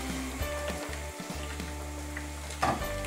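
Oil and butter sizzle in a pan while the chicken and spinach lasagna filling is started, a steady close frying hiss with small crackles and a brief stirring scrape near the end.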